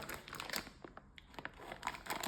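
A plastic bag for fermenting homemade sauerkraut is crinkled and pressed, a close, irregular series of crisp rustles and crackles with a brief pause midway, with no talking.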